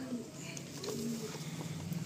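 Pigeons in a loft making faint low cooing calls against a quiet background. A voice is heard softly.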